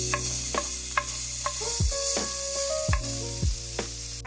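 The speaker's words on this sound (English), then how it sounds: "Now I'm going to add in my onion, and we're going to let that saute for 2 minutes." Onion sizzles in olive oil in a pan, a soft steady frying hiss broken by several sharp stirring scrapes and clicks of a utensil against the pan, with no voices.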